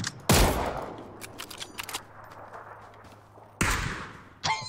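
Gunfire in PUBG, heard as a few loud, sharp shots with ringing tails spaced across a few seconds, with quieter clicks and rustles in between.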